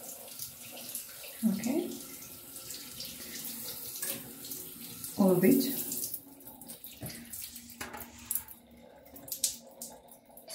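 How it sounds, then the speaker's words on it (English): A handheld shower rinses limescale remover off a bathroom surface, splashing water in uneven bursts with two louder gushes and softer trickling between, while a person talks briefly nearby. "So after that, we just rinse it with a shower"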